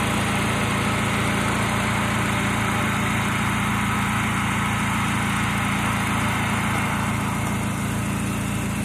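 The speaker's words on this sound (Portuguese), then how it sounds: "ligou a ventoinha de novo." A steady, droning whir of a car's radiator cooling fan running mixed with engine hum, constant and close with no breaks, no voices.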